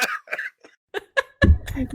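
A person coughs abruptly near the close, a loud close burst following several quieter laughs and chuckles from one or more people.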